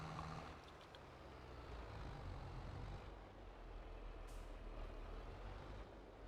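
Tractor engine from Farming Simulator 22, pulling a heavy load at the back: a steady, low, rumbling drone that continues at even volume and is heard alone.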